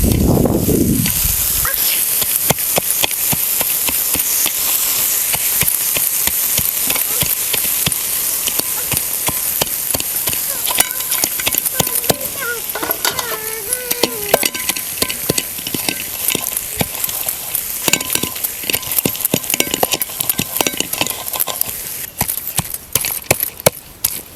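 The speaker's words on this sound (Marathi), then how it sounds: "अशी बारीक होसपर्यंत तव्यातच वाटायचं" A wild-greens chutney is crushed right on a hot griddle: rapid, relentless scraping and knocking against the metal continue for many seconds over a faint sizzle, close and fairly loud.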